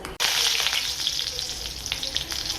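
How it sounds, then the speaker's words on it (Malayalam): Mustard seeds crackle and pop in hot oil, a dense sizzle dotted with sharp little bursts, close and fairly loud, no voices. "കടുക് പൊട്ടിക്കഴിഞ്ഞ് നമ്മൾ വേപ്പില ഇട്ടു."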